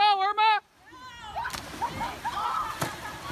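Water polo players dive and flop into a pool, with a splash and sloshing water under a short burst of voices and cheering at the start.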